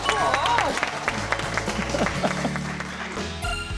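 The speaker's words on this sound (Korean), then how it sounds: "박수 부탁드릴게요." Applause from a studio audience at a live broadcast, a steady clapping wash close up throughout, with voices audible in the background.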